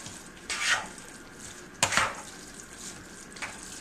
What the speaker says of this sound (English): I'm just going to mix all that in so that it's evenly distributed within the brown rice